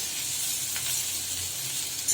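Chicken stuffing frying in oil in a pan gives off a constant, even hissing sizzle at moderate loudness, with a faint stir near the end.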